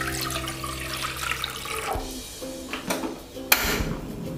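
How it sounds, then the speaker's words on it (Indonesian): Water is poured into a cooking pot to be boiled for a spicy sour tempe soup, splashing and gurgling up close for a few seconds with no one speaking. "Langkah yang pertama, kita masukkan air"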